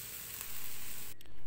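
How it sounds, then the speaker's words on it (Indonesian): Tempeh pieces frying in a pan, a close, steady hiss of hot oil sizzling that dips briefly before swelling again, with no talking. "Ini kemudian saya masukkan tempe yang sudah saya potong-potong tadi. Saya korek-korek sebentar ini."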